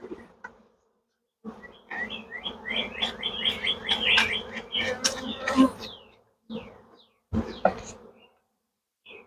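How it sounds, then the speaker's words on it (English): Honeybees buzz and hum in uneven bursts close by as they are shaken into a hive box in a backyard apiary, with brief pauses and some chirpy higher tones mixed in. "I'm going to shake these bees into the other box."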